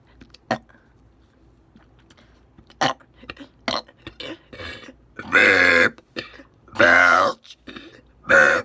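A person belches loudly in public, several short gulps and thuds followed by three long, drawn-out, rumbling burps close to the mic.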